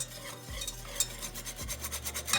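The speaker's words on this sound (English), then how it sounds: "as the butter is really all melted in, I'm gonna put the flour in there" Flour stirred into melted butter in a pan for a mashed-potato roux, with a steady scraping and stirring texture and a soft sizzle underneath, close and continuous with no talking.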